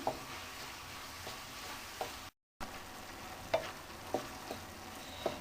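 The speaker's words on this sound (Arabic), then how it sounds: "دابا غادي نضيف لها القمرون. غادي نخليه حتى هو يتشحر مع هاد البصله مزيان" Shrimp sautéing with chopped onion in a pan, a soft steady sizzle broken by occasional stirring scrapes and light clinks at close range, with no talking.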